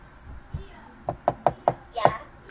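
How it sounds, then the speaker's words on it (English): Five sharp knocks on a door in the Roblox game Brookhaven, spaced evenly and growing slightly louder, the last one heavier, after a brief murmur of voice. "Did you hear that knock?"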